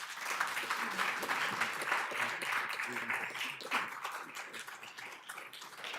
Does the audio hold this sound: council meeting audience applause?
yes